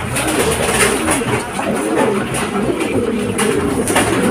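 Pigeons coo steadily in a breeder loft among racing stock birds with young, a dense layered chorus of soft throaty calls that runs on without pause.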